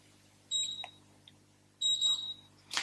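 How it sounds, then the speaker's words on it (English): An EM3520 electronic keypad lock gives two short, clear high beeps, each a quick double tone, spaced about a second apart, with a faint click and a low steady hum in the background. "press and hold 0 until you hear a double tone and the LED illuminate"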